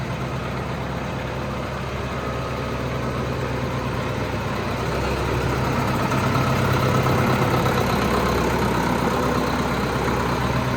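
A YTO tractor engine runs steadily nearby, a low throbbing diesel drone that grows slightly louder midway through, with no talking.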